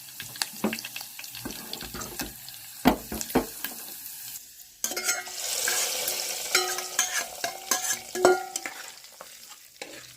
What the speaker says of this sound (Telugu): కరివేపాకు పప్పులో యాడ్ చేసుకోవాలి ఫ్రెండ్స్